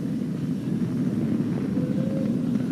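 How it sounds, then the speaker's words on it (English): A SpaceX Falcon 9 rocket carrying a crewed Dragon capsule roars in flight during launch on May 30, 2020. The sound is a distant, steady low rumble with no talk over it. "Flying crew on board Dragon and Falcon 9, and look at them go."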